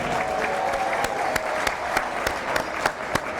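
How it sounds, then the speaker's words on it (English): Applause from a crowd in a school gym greets the starting lineups on a Friday night at a boys' basketball game, with steady dense clapping and sharp individual claps. "Big round of applause"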